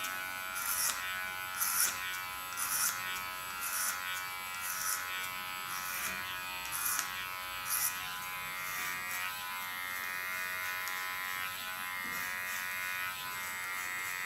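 Electric hair clipper buzzing steadily and close while cutting an undercut on the short sides and neckline, with short bursts of louder pulsing as it passes through hair.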